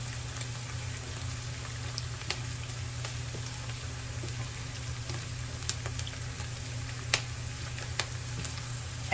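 Garlic and onions fry in a pan for Sicilian pasta alla Norma, producing a steady, even sizzle with scattered small pops and crackles throughout, close and continuous with no voices.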